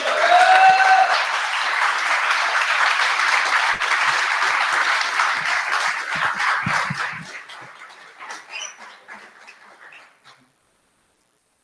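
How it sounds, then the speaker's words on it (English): A crowd at a commemorative rally for a torn-down mural gives a long burst of dense applause that holds steady, then thins into scattered claps and fades to silence near the end. "Uhuru, another round of applause."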